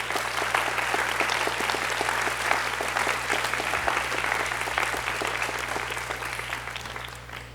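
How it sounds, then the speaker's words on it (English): Audience at a 2022 high school honors and awards ceremony applauding the emcees and musicians, a dense sustained roar of many hands clapping that gradually fades toward the end. "Let's start by giving them a warm round of applause"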